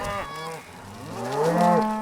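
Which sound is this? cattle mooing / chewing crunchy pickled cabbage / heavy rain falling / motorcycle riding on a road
cattle mooing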